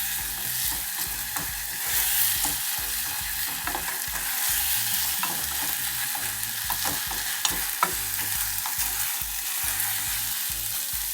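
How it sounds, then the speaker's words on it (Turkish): Onion dolma filling sizzles in a hot pan while a spoon stirs it steadily, scraping and rustling close by with an even, continuous fry underneath. "Güzelce karıştırıyoruz. Suyunu çekene kadar"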